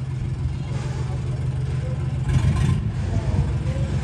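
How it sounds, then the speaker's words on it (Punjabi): A John Deere tractor engine runs loud and close, a steady heavy low rumble that swells slightly near the middle and holds throughout. "ਆਵਾਜ਼ ਬਹੁਤ ਵਧੀ ਹੋਈ ਆ ਟਰੈਕਟਰ ਦੀ"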